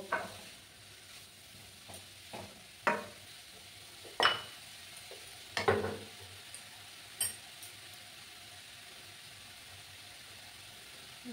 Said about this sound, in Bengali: দিয়ে ভালো করে আমি নাড়াচাড়া করে নেব।